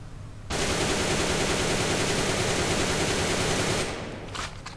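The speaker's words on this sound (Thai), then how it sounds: "มา ทดสอบให้ดูอีกรอบกันนะมา กดค้างนะฮะ" A gel blaster toy gun fires full auto with the trigger held, a dense continuous buzzing rattle of shots for about three seconds that then cuts off, with no talking.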